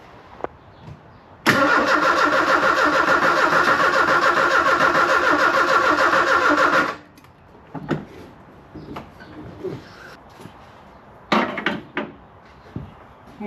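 The starter cranks an old sports car engine that sat parked for 35 years, a loud, steady churning that runs for about five seconds without catching, followed by quieter clunks and shuffling.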